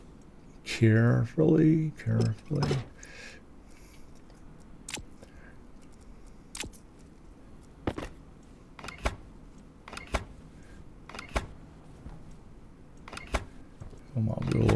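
A wrench is used in the space-base building game Stationeers, heard as sharp, isolated clicks and ticks spaced a second or two apart, with someone talking at the beginning and end.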